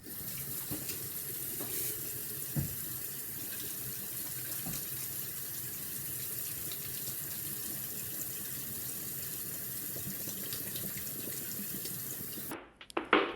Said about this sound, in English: First things first, of course, we have to wash our hands.